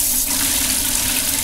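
Water gushes steadily from an outdoor faucet and garden hose, a loud continuous hiss and rush with no pauses.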